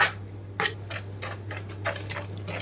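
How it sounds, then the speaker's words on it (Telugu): Repeated soft wet slaps and scrapes of a spoon working through thick semolina idli batter, an uneven rhythm of strokes over a low background hum. "ఇడ్లీ పిండిలాగా కలుపుకుంటున్నాను."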